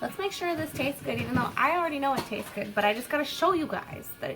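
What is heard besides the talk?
No distinct noise like a dog, phone or traffic.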